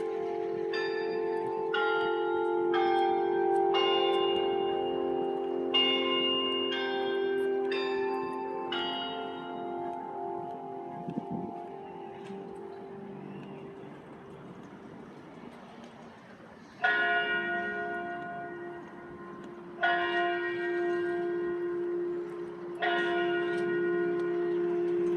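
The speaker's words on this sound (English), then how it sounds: "there you hear those constant chimes at the church right there" Church bells ring repeatedly on a town main street, a run of quick chimes followed by slower, widely spaced strikes that hum and fade, sounding at moderate distance.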